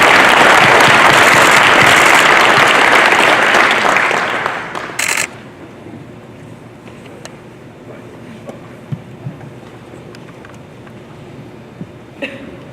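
An audience at a Hall of Fame ceremony gives loud sustained applause that fades out after about four seconds, leaving a quiet room with scattered coughs and small shuffles.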